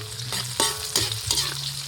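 Onion and garlic fry in a pan with a close, continuous sizzle, broken by three or four sharp scraping stirs of a utensil. No voices are heard.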